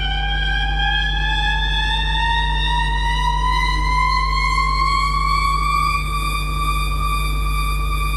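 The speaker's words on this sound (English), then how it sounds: "So this is the riser from you know, just before the drop" A synthesized riser effect from a techno track builds before the drop, a sustained tone with harmonics sliding slowly upward over a steady low hum, loud and alone without voices.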